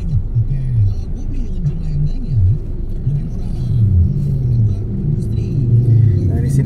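Traffic jammed on a provincial road in Indonesia near a junction, with a constant low engine rumble and idling motors. Someone talks over it throughout.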